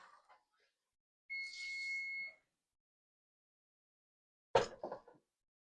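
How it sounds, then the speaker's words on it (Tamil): A kitchen timer alarm going off after a 15-minute countdown indoors, giving one steady, loud buzzing beep of about a second. Quiet pauses surround it, and a short burst of other noise follows. "இங்க வந்து அலாம் அடிச்சிருச்சு"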